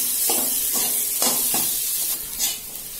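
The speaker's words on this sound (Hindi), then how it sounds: "अभी मैं अच्छे से इसको मिक्स करके फ्राई करके लूंगी" Chickpea samosa filling stirred and fried in a pan, a steady close sizzle broken by several scraping strokes of the spoon, with no talk over it.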